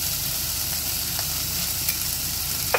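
Onion and tomato sizzle steadily in a hot pan with oil, a continuous bright crackle and hiss with a few small pops and stirring scrapes, close and even throughout, no voices.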